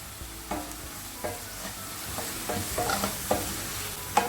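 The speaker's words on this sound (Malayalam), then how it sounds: "ഇഞ്ചിയുടെയും വെളുത്തുള്ളിയുടെയും പച്ചമണം മാറുന്നത് വരെ വഴറ്റിയെടുക്കാം." Chopped garlic and ginger sauté in hot oil in a pan for a prawn chilli, a steady soft sizzle broken by several spatula stirs and scrapes at irregular intervals, close and moderately quiet, with no talking.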